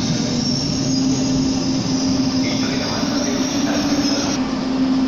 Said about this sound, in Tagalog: Ito yung papuntang tren.